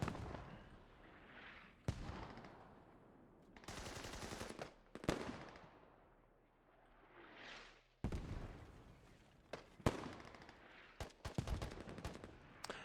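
Gunfire from the military shooter game Squad in a Middle East insurgents match: sharp single shots and rapid automatic bursts, some close and loud, others echoing and distant, spread across the whole stretch with no talk.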